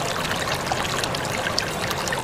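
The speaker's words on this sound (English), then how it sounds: "This is river Kukkuta, where the blessed took bath, drank water and rested for a while." Water of the River Kukkuta near Kushinagar trickles and streams in a steady, even wash of close splashing that stays unchanged throughout.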